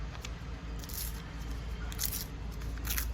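Paper torn by hand along its edges, with several short bright ripping bursts over a steady low background hum, close and fairly quiet.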